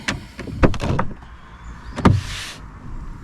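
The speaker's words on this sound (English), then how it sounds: "Let me open the door." A car door is unlatched and swung open from inside a car parked in a lay-by at dawn, giving a few close clicks and thumps followed by a short rush of outside air.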